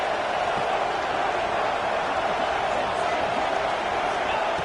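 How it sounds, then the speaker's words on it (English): Dense, steady roar of a packed football stadium crowd at a Tennessee versus Oregon game, loud and continuous throughout, with no breaks and no distinct cheers standing out. "listen to this crowd noise. This stadium is vibrating."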